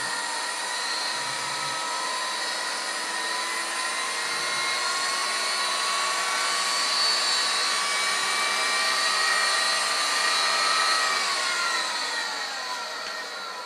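An automotive alternator converted into a DC motor and driven by a speed controller spins steadily with a sustained whine and layered humming tones, continuous and fairly loud throughout.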